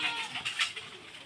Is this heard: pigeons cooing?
yes